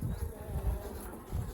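A steady, close hum of honeybees working over an old honey frame, the low buzz holding throughout with small swells in loudness.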